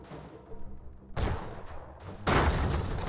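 Booming airship cannon blasts in the video game Airships: Conquer the Skies ring out in quick succession, each heavier than the last, with rumbling explosions layered over a noisy battle background.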